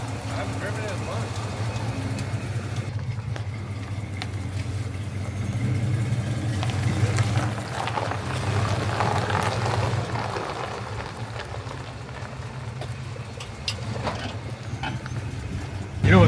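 A 1980 Ramcharger truck on 37-inch tires drives around the block, its engine holding a steady low drone from inside the cab while voices talk over it.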